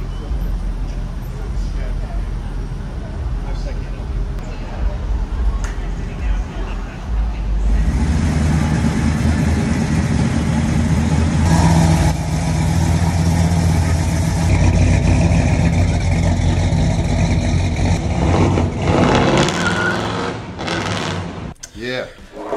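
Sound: 1968 Chevrolet El Camino engine idling

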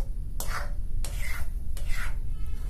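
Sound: stirring water chestnut flour halwa in a pan

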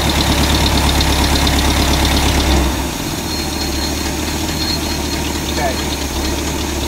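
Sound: tractor engine idling

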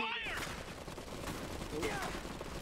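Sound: gunfire in the video game Iron Harvest

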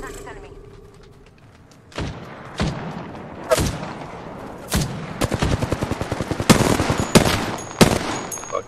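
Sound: gunfire in a video game

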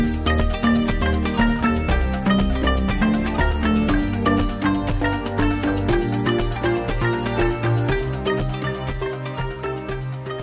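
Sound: female cricket chirping

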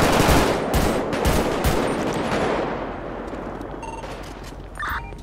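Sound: gunfire in a video game

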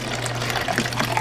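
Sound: water being poured into a drink mixture

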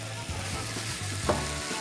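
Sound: tomatoes poured into olive oil, sizzling and stirred

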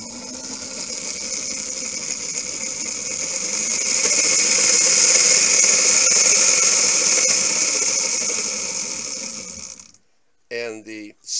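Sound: 12-volt DC motor of a go-kart running via throttle

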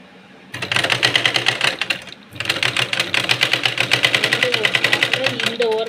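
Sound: sewing machine stitching a blouse sleeve

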